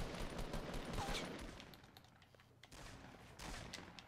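Rapid gunfire in Fortnite Battle Royale, bursts of shots clustered early and again near the end, faint in the mix with little talk over it.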